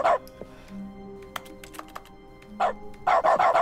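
A dog in the Stanley Parable video game's dog mode gives a few short barks near the start and louder yips toward the end, with steady synth music and soft clicks between them.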